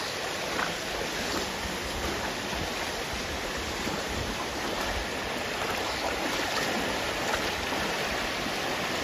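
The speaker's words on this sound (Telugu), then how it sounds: "చూడండి ఎట్లా పోతున్నాయో వాటర్ మొత్తం." Floodwater rushes fast past a village temple by the Godavari during the rainy season, a steady, loud, broadband roar of churning water with no break and no voices.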